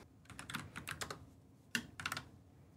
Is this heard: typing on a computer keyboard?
yes